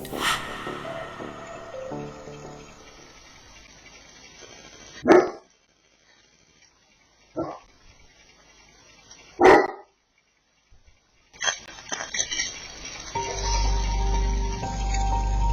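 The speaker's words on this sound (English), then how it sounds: "Just moments after her dog barked" A dog barks three times, sharp and fairly close, separated by quiet pauses, followed by a low rumbling background noise.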